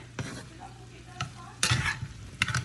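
Fish and seafood with hot pepper cooking in a pot, with a low continuous hum and several sharp stirring clatters and scrapes at irregular intervals, close and moderately loud, no voices.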